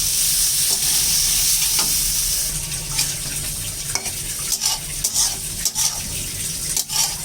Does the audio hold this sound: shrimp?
yes